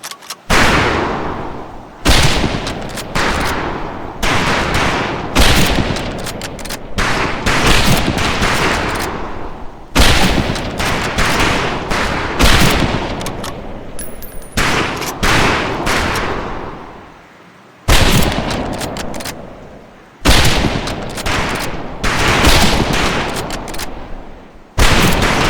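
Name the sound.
rifle gunfire at a firing range, Medal of Honor video game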